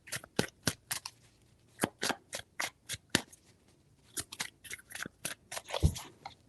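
Tarot cards shuffled by hand in quick crisp riffling bursts, close and fairly quiet, coming in short clusters with brief pauses between them.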